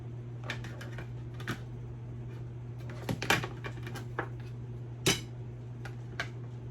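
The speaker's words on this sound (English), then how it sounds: "So let's cut the 2 eggs in halves" Knife tapping and cutting through two boiled eggs on a cutting board while preparing a simple rice dish, a few sharp clicks and taps scattered over a steady low hum, near and fairly quiet.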